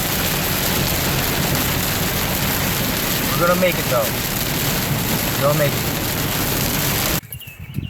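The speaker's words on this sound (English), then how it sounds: "Raining hard as hell. Another rainy day in Georgia." Heavy rain pours hard on a Georgia day as a dense, steady roar for about seven seconds before cutting off abruptly, with someone speaking briefly over it.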